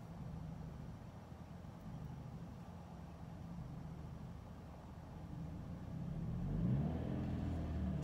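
A Scion manual-transmission car pulls away slowly in first gear in a parking lot, its low engine rumble steady and close, then rising slightly as the clutch engages and the car starts to roll.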